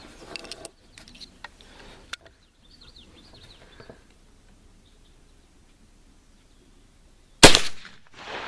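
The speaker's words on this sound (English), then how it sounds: "Alright, I'm gonna go ahead and shoot." A single loud .410 shotgun blast fired outdoors at a 25-yard target, a sharp broadband crack followed by a short decaying echo, after several seconds of quiet ambience with faint birds and small rustles.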